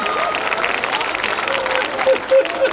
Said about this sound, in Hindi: एक बार तालियां वालियां बजा दीजिए